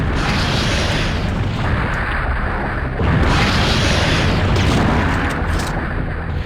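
Shotgun blasts in the video game Resident Evil 3: Nemesis: loud, booming discharges with a heavy rumbling tail, one near the start and another around three seconds in, filling the whole clip.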